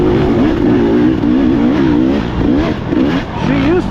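A dirt bike on a wooded single-track trail in fall brakes briefly, then throttles back out, its engine loud and close and its pitch rising and falling steadily throughout.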